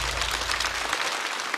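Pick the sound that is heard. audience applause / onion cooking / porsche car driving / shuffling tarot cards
audience applause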